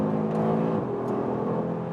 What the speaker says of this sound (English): this 5-cylinder engine delivering me great performance